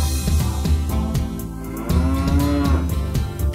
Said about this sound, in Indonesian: Di peternakan ada sapi.